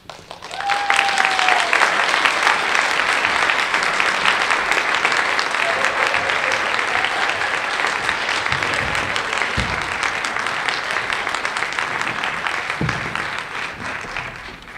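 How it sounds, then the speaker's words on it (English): A theatre audience breaks into sustained applause, a broad, even roar of clapping that starts suddenly and continues throughout, with a brief whistle or cheer near the start and slight softening at the end. "will you use the magical applause to send me home?"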